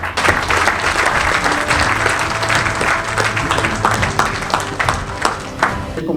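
An audience at a book-signing ceremony gives author Didier Nalbé a full, loud round of applause. The dense clapping lasts throughout, with some voices mixed in.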